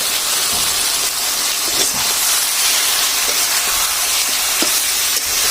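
Golsa fish hit a pan of vegetables cooked down in spices, giving a loud, steady sizzling hiss that runs alone for several seconds with faint crackles.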